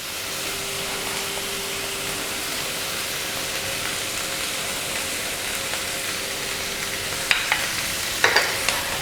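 Ginger garlic paste is stirred and sautéed in a frying pan for tomato rice, a steady close sizzle under continuous stirring, with a few sharp utensil knocks near the end.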